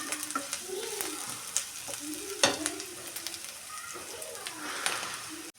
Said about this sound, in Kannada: ಶುಂಠಿ ಬೆಳ್ಳುಳ್ಳಿ ಪೇಸ್ಟ್ ಹಾಕೊಂಡ್ಬಿಟ್ಟು ಸ್ವಲ್ಪ ಫ್ರೈ ಮಾಡಿ